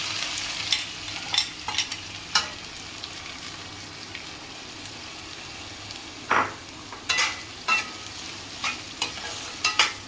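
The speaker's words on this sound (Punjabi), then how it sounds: "ਹੁਣ ਅਸੀਂ ਥੋੜਾ ਜਿਹਾ ਜੀਰੇ ਨੂੰ ਪਕਾ ਕੇ ਫਿਰ ਆਪਾਂ ਪਿਆਜ਼ ਐਡ ਕਰਦੇ ਆ ਹੁਣ ਆਪਾਂ ਪਿਆਜ਼ ਪਾ ਦਾਂਗੇ" Cumin seeds and onions frying in a pan, with a low steady sizzle and sharp metallic scrapes and taps of a spoon that come in clusters, louder toward the end.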